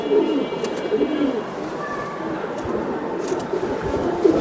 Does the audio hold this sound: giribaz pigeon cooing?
yes